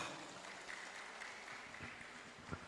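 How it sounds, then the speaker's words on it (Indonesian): An audience at a Nahdlatul Ulama gathering breaks into applause, heard as a faint, distant patter of clapping hands that stays steady throughout, with no voices over it. "Tepuk tangan untuk kita semua"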